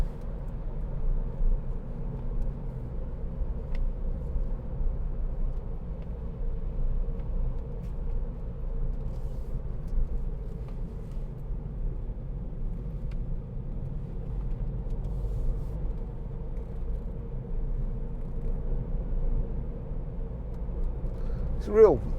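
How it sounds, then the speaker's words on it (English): A 2016 Ford B-Max with a 1.0-litre EcoBoost three-cylinder engine drives along, giving a quiet, steady low hum of engine and road noise inside the cabin, faint and even throughout with no clear talk. "This three-cylinder engine, real punchy little engine, very economical"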